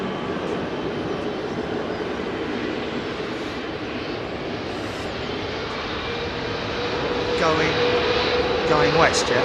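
Jet aircraft engines roar at London Heathrow Airport, a broad, continuous rumble that swells slightly toward the end, with indistinct voices present.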